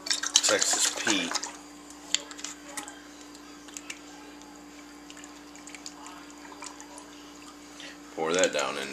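Texas Pete hot sauce drips and trickles into a bag holding a marinating tenderloin in small irregular splats, close and fairly quiet, with talking at the start and end.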